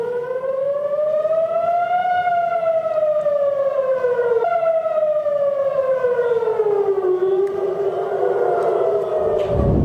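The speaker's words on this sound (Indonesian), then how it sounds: "Sirine bunyi tanda peringatan terdengar di Tel Aviv pasca serangan." Air raid warning siren wailing over Tel Aviv, a loud, clear civil defense tone rising and falling slowly across the whole stretch with no voices.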